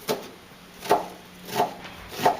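A knife chops through an onion on a cutting board in a home kitchen, four crisp, evenly spaced knocks about two-thirds of a second apart, close and clear with no talking.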